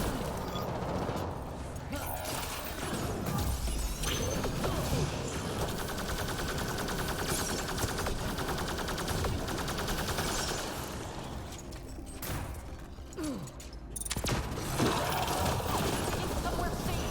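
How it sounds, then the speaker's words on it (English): Enemies fire on the player in Mass Effect Andromeda multiplayer, rapid continuous gunfire and ratcheting mechanical clatter filling the scene with steady intensity, voices talking over it. "They're shooting at us."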